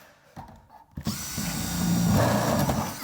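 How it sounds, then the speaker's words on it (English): A power tool whirs into action fixing rivets into insulated metal clad panels on a garden room, starting after a couple of clicks and then running as a steady, loud, close mechanical drone. "we can get a series of rivets in here, approximately 400 spacing"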